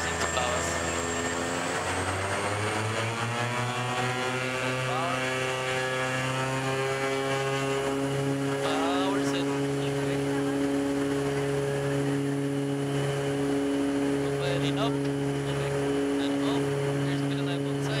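Twin Otter propeller aircraft taking off from runway 13 at Golfito, Costa Rica, heard from the cockpit: a loud, steady turboprop drone whose tones climb as power comes up, with radio-style talk over it.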